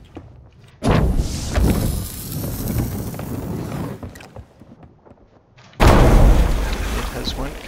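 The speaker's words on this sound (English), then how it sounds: "It has went kaboom." Two heavy booms go off during a Sea of Thieves session near a wooden crate on the water, each a sudden loud blast with a long rumbling tail.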